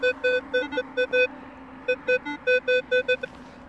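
A metal detector responds as a ring is passed over it, giving a run of short, evenly spaced electronic beeps in two bursts with a brief quiet gap between them, loud and close.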